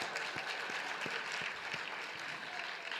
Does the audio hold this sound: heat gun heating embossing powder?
no